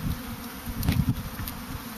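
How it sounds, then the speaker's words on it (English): Honeybees from a spring package buzz steadily as the colony is installed with its queen, a dense, continuous low drone with a few brief sharper wingbeat swells close by, no talking. "So we put the queen in here, and we will shake the rest of the bees."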